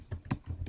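Three or four quick keystrokes tapped on a computer keyboard, close and quiet, in a short burst of light clicks with no voices.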